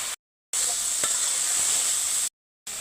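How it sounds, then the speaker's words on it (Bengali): Raw jackfruit fries in hot oil with salt, a continuous bright sizzle with a faint stir, broken by two short gaps of silence. "এখন আমি এঁচড়গুলো ভেজে নেব"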